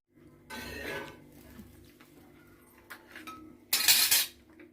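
A knife cuts through a roasted homemade sandwich in two bursts of crisp scraping and crunching, a shorter, softer stretch and then a louder, sharper one, with quiet pauses between.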